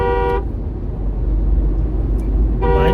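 A car horn blares loudly and close on a road trip from Prayagraj to Delhi, India, two long honks with a gap of road and engine noise between them.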